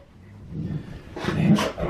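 Puppies wrestling indoors, with short close yips and barks rising over scuffling in the last second, played out against a quiet room.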